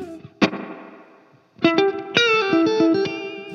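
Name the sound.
guitar played through Laney Loudpedal with reverb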